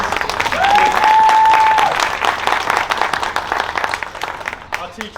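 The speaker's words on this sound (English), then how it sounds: "A round of applause, please." An audience claps at a primary school Year 4 assembly, with loud, dense applause that swells early and then slowly fades while a voice speaks over it.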